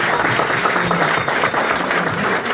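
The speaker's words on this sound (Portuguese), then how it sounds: "Uma salva de palmas ao Senhor." A church congregation at a Presbyterian evangelistic gathering bursts into steady, dense applause, loud and close, with a faint murmur of voices under the clapping.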